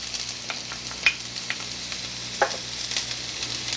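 Onions and celery going into aromatic hot oil in a pan, a faint, steady sizzle with occasional soft clicks and stirring sounds, no voices.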